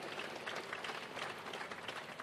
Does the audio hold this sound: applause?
yes